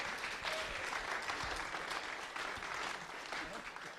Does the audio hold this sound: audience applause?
yes